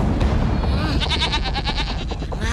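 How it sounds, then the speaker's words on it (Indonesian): Goats bleat in a quavering series from a nearby animated herd in an Indonesian folk legend, heard over a dense soundtrack of music and effects. "Hei Gendono, jangan makan kambing-kambing itu"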